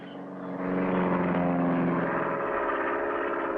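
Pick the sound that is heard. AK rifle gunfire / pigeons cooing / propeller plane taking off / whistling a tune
propeller plane taking off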